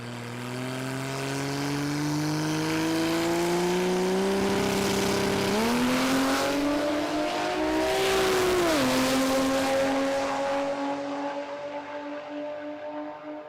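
A Barra-engined Ford Falcon ute makes a drag-racing pass with a loud, raspy engine note. It climbs steadily through the gears, with brief dips at each shift, then fades slightly toward the end.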